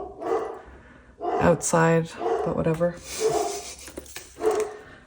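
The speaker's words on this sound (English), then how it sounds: "Excuse my dogs barking." Dogs bark in short bursts a little distance away, rising between stretches of someone talking close by.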